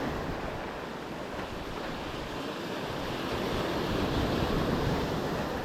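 Sea surf rolls in at high tide along a coastal fishing spot, a steady, continuous wash of breaking water mixed with wind rumble, fairly close and unbroken, with no voices.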